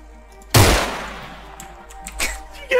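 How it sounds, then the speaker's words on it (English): A single loud, sharp rifle shot cracks out in Arma 3 and rings off into a fading tail, followed by a couple of softer thumps. "I'm gonna shoot him in the neck"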